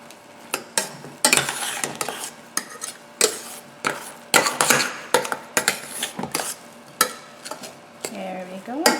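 Flax seed tortilla dough being stirred in an oiled pan, with irregular scraping and clattering strokes of a utensil against the pan and light sizzling underneath, steady and close with no talking.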